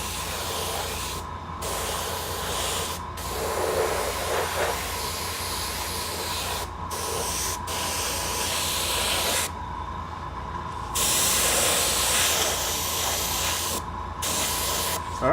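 An airbrush sprays Vallejo Model Air paint in repeated bursts of airy hiss, each stopping briefly before starting again, close and fairly loud over a low compressor hum.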